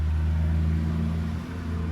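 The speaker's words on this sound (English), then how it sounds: "mail truck cruising by" A mail truck engine rumbles steadily nearby with a low droning hum, passing by without any voices.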